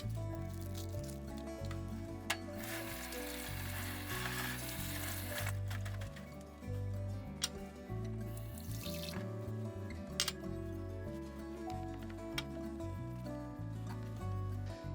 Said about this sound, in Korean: 남은 재료는 세척 후 찬물에 헹군 뒤 수분을 제거해 주도록 하겠습니다